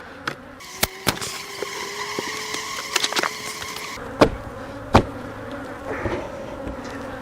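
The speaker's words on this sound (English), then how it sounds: "so the bees can go in and out right there and get directly to that honeycomb in there" Honey bees buzz around a beehive fitted with honey supers in spring. A continuous near drone carries sharp knocks and clicks of hive equipment scattered through it.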